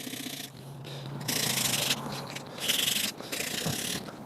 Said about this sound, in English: I'm gonna get this old varnish off the wood and oil it